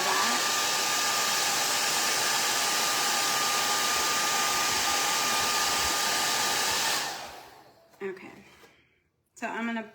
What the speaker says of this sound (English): I am going to hit this with the dryer real quick because my paint bled through on the back.